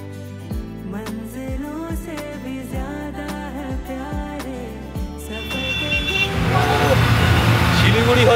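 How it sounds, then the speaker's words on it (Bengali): Busy road traffic in Siliguri with car horns tooting among the engine noise of passing vehicles. Loud, close street din grows denser toward the end, with background music over it. "যানজটের শহর শিলিগুড়ি, হচ্ছে হর্নের শহর শিলিগুড়ি"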